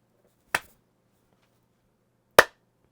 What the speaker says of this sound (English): do you want to clap so we can make this easier for you editing?